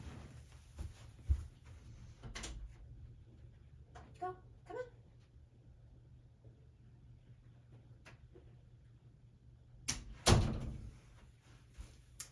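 A house door is opened and shut to let dogs in and out, with a couple of soft clicks and thumps early, a latch rattle mid-way and a louder thud near the end, all in a quiet room.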